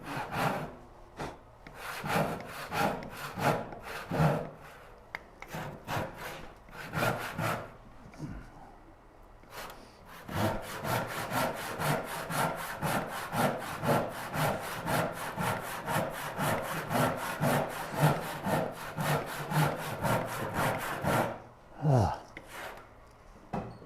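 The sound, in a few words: hand saw making a long rip cut in wood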